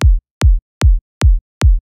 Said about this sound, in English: The kick we're going to recreate today sounds like this